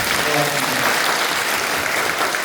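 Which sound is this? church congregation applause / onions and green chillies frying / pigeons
church congregation applause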